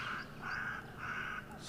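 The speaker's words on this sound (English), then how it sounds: "is what is making that lovely noise at the moment. That is a Cape crow." A Cape crow calls outdoors, giving three harsh, drawn-out caws in steady succession at moderate distance, with no voices over them.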